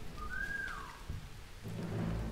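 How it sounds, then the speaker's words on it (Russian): A single short human whistle, used as bait to lure a guard in War Mongrels, rises then slides downward, heard over a rumbling rain-like background. "Свистим."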